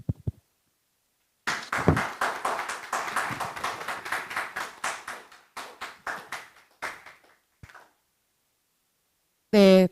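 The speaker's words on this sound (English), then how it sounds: "Another big round of applause for the presentation." Audience applause for a student presentation at an Incheon-Taoyuan international youth exchange event, a few scattered claps followed by a sustained round of clapping that fades out, then a brief loud burst.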